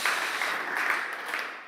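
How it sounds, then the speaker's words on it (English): An audience at a design networking event gives a short burst of steady applause, fairly close and filling the whole moment without talk. "We should have another applause."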